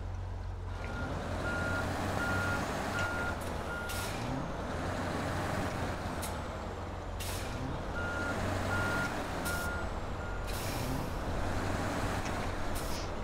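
A truck in the video game Snowrunner idles and crawls along with a low engine rumble, repeated reversing beeps in short bursts, and intermittent hissing air-brake releases.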